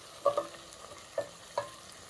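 Food stirred and fried in a pan while rice cooks: three brief utensil clinks against the pan over a faint sizzling hiss, with no talking.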